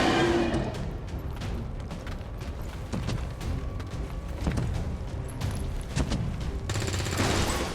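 Soldiers in a video game trade rapid gunfire, with bursts and single shots cracking out steadily and loudly across the whole stretch amid battlefield clatter and booms.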